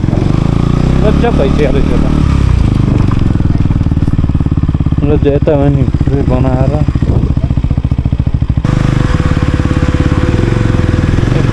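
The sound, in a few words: motorcycle engine running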